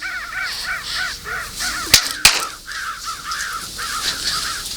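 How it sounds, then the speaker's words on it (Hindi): Many crows caw on a palace roof, a loud, dense flock of repeated harsh calls overlapping continuously, broken by two sharp knocks midway. "ऐसा लग रहा है कि पूरी दुनिया के कौवे हमारी महल के छत के ऊपर बैठे हैं।"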